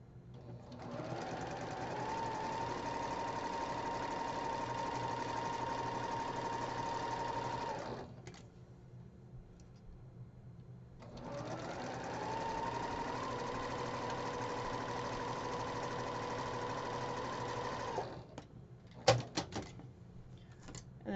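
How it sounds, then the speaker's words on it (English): A domestic sewing machine runs two long stitching passes along a drawn line on quilt fabric, each a steady rapid whirring hum, separated by a short quiet pause, with a few clicks and handling noises at the end. "Now I'm just going to sew this on either side of the drawn line 1/4 inch."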